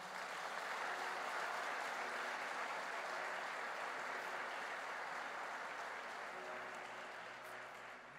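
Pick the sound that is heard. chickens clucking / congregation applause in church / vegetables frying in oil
congregation applause in church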